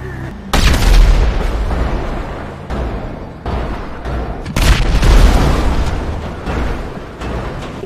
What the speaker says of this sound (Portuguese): Estão explodindo alguma coisa aqui,